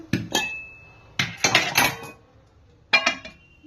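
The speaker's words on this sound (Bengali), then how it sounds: "এবার কড়া চাপানো হচ্ছে" A metal wok (kadai) is set onto the stove while making egg roll Maggi. Sharp clanks and metallic knocks come in three close bursts with short quiet gaps between them.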